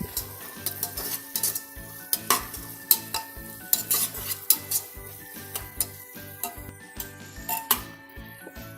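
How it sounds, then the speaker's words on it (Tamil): Biryani masala being stirred into fried tomatoes in a pan for mushroom biryani, with repeated scraping spoon strokes and clinks against the metal over a steady sizzle, close and fairly loud. "இதில் ஆட் பண்ணி இதை நல்லா மிக்ஸ் பண்ணிக்கோங்க."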